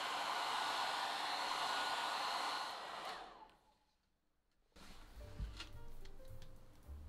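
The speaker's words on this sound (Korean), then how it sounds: "저는 드라이어로 빨리 말려 보도록 할게요." A hair dryer blows steadily and loudly over a pastel sky painting, then shuts off partway through, leaving quieter handling sounds and faint low knocks afterward.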